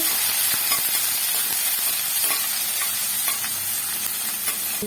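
Onions fry in a pan for vangi bath, a steady loud sizzle running throughout with scattered scrapes and taps of a spoon as they are stirred, and no voices.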